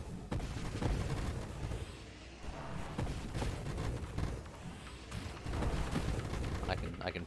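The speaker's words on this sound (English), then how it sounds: "I can pre-fire to get the explosions ready." Mortar explosions in the space shooter game Nova Drift, a dense run of muffled booms and bursts rolling continuously at moderate distance, with a voice talking over them.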